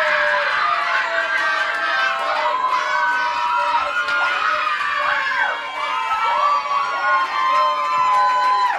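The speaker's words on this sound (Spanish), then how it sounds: "vas a ver cómo van a gritar ahorita" Live audience at a singing competition grand final shouting and cheering loudly together, a continuous dense roar of many voices with high shouts and screams rising over it throughout.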